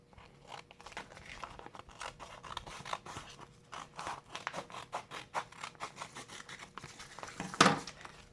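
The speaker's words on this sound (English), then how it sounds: "I'm going to cut my contact paper to the size" Scissors snip through contact paper in a steady series of short, crisp cuts with light crinkling of the sheet, close up and fairly quiet, with no talk.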